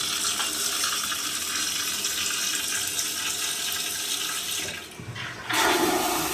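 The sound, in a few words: unusual toilet flushing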